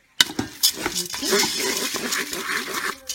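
Organic lentils are stirred in a Cookeo pot, a spoon scraping and clinking against the pot with a close, busy rustle that runs through the whole stretch.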